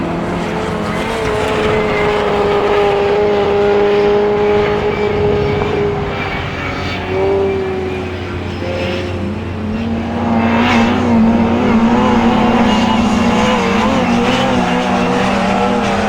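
Autograss race cars, including a stock hatch, lap a dirt track at St Neots. Loud engines drone and rise in pitch as the cars pass close, with overlapping motors and no talk.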